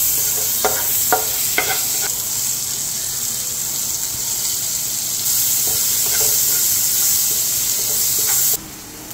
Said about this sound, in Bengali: পেঁয়াজটা একটু লাল লাল করে ভেজে নিয়েছি